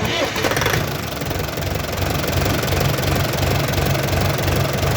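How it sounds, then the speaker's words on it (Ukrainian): A DTZ 5404 tractor engine idles cold with a loud, steady low rumble and rhythmic knock, running continuously from start to end, with a voice speaking over it. "Так, він працює. Холостий хід"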